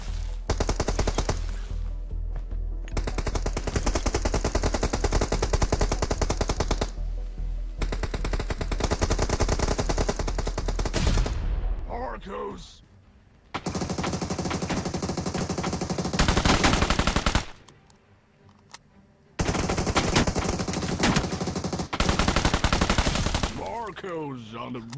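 Automatic gunfire bursts from a gun in the battle royale game BGMI, loud rapid fire in long sustained volleys broken by short pauses, with a brief near-silent gap before shooting resumes.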